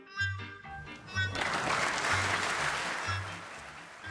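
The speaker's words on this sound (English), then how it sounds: "He applauded his own shots" Snooker crowd at the Crucible breaking into applause, starting after a few muffled sounds and then a full sustained round of clapping with a low rhythmic hum underneath, fairly quiet and distant.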